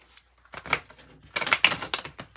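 Tarot cards are shuffled up close, giving dry riffling bursts of papery flicks, one short burst followed by a longer, louder flurry.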